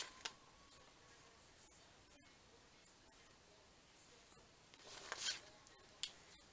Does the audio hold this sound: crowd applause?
no